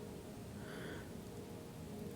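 Heavy rain falls outside at night as a steady, soft, even hiss that stays quiet and continuous throughout, with no distinct thunderclap standing out.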